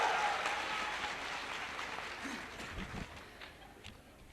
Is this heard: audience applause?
yes